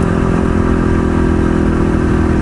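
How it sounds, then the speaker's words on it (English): A Yamaha WR 450 motorcycle riding on a dirt road in Dog Valley, its engine droning loud and steady at close range with a rough mechanical rumble and no voices. "it's been a while since I've ridden the WR 450, but I'll tell you, it's one sweet bike"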